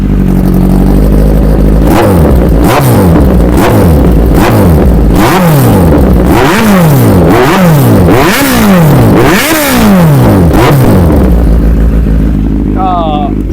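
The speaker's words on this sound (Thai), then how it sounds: "เดี๋ยวเราเบิ้ลให้ฟังกัน" A 2020 Kawasaki Z900 four-cylinder motorcycle revs repeatedly up close, each throttle blip rising and falling in quick succession, loud and rhythmic, before settling back to idle.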